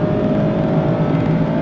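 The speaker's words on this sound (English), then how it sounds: "Great sound to that 4-cylinder, naturally aspirated engine on the brakes." The 2025 Mazda MX-5 Miata's naturally aspirated four-cylinder engine drones steadily and loudly from close by for a brief stretch, with a constant hum and no talking over it.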